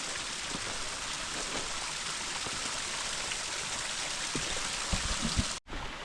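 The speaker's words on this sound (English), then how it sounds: "Found some waterfalls." Small waterfalls in a desert oasis in Arizona's Superstition Mountains give a steady, broadband rush of falling water that holds even throughout, close and moderately loud, ending in a brief dropout near the close.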